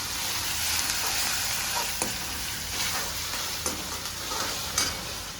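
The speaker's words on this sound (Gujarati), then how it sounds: "ટમેટાની પણ ગ્રેવી નાખવાની છે" Tomato gravy cooks in a hot pan with a steady, close sizzle and crackle. Occasional soft stirring knocks sound throughout, and nobody speaks.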